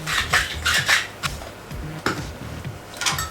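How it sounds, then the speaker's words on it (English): Four eggs with pepper being quickly whisked in a bowl, rapid rhythmic scraping and clinking of the whisk against the dish in short repeated strokes, close and fairly loud. "quick whisk."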